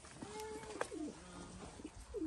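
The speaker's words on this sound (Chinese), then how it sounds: "这鸽子这么可爱，送你。" Pigeons in a remote mountain village make soft, rolling coos, several drawn-out calls in a row, close but quiet against a faint background.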